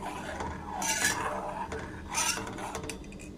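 A spoon stirs boiling milk tea in a pot, two bursts of scraping metal-on-metal swishes over a low simmering bubble, close and moderately quiet with no speech.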